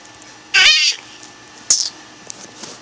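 A cat character in a video game meows twice, loud and close, a drawn-out cry followed a second later by a shorter one, with quiet background between.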